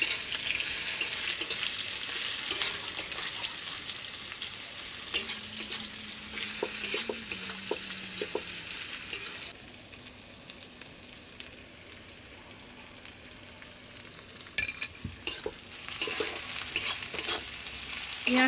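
Sliced onion frying in oil with whole cumin and five-spice for a Bengali chicken ghugni, a close, steady sizzle with scraping stirs, easing to a quieter hiss midway before a sharp clatter and renewed stirring near the end.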